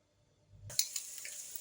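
Bacon sizzling and grilling for a simple pancake breakfast, starting after a quiet moment with a sudden steady crackling hiss, close and moderately loud, with small pops scattered through it.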